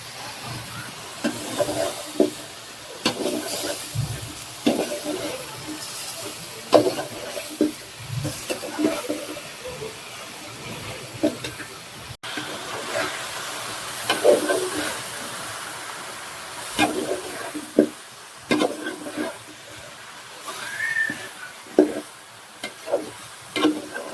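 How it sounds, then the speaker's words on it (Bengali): Spices and vegetables fry and are stirred in a pan for a curry, with soft sizzling and repeated scraping stirs running throughout at close range, broken by occasional clinks. "এদিকে তরকারির জন্য মশলা কষাই নিতেছি। এখন তরকারিগুলা দিয়ে দিব।"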